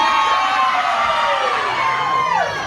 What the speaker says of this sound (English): going to get these guys cheering like crazy